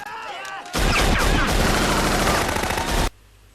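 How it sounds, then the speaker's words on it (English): Loud, dense machine gun fire erupts in a vampire movie battle, a rapid continuous burst of close shots lasting a couple of seconds before cutting off sharply. "the final battle against the vampires can begin. With shootings. Because we all know vampires just love machine guns."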